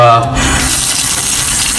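Tap water runs loudly into a sink while a steel pan is washed, a steady close hiss, with a voice talking briefly at the start.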